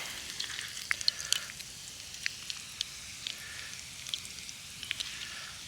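An egg frying in a pan outdoors on a trapline at lunchtime gives off faint, scattered crackles and small pops over a low, steady hiss, with no talk.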